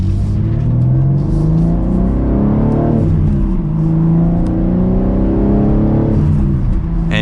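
A 2022 BMW M3 with a six-speed manual pulls hard under acceleration, its engine drone rising steadily through the revs, dipping at a gear change, then climbing again, loud and close throughout.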